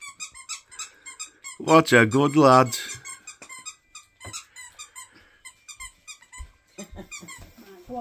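A dog squeaks a squeaky teddy toy indoors at Christmas, a burst of rapid squeals around two seconds in, close and loud, with people talking over and around it before and after.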